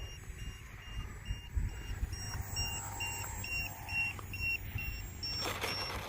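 Faint, evenly spaced electronic beeps of a LiPo battery alarm on an RC plane, repeating steadily over a quiet background, with a brief noise burst near the end.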